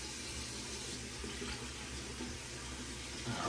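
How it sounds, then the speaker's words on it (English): Running water at a bathroom sink before a razor shave, a steady close splashing and flowing wash that continues throughout. "First, we're going to splash some water on my face."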